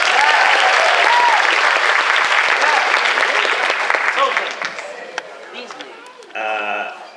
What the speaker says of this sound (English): a round of applause for Taryn Wheatley